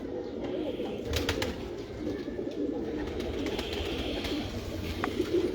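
Pigeons coo steadily in a low, continuous murmur close by, with a few faint higher chirps over the top and no voices.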